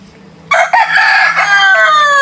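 A rooster crows loudly and close, a long drawn-out call that ends in a rising strained note, with faint background clucking of hens.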